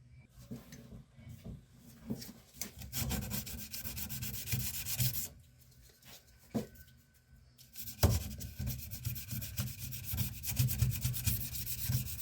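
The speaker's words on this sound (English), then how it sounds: "I'm going to take this 220 here and I'm going to take all the bad spots out of this" Sandpaper of 220 grit rubs back and forth by hand over a wooden firearm stock, a close scratchy rasp in steady strokes with a brief pause in the middle.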